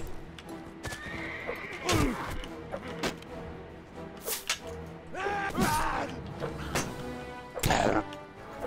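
An injured horse in a Middle-earth war video game neighs and whinnies several times over steady clip-clop hoofbeats, with creaks and thuds of battle in the background.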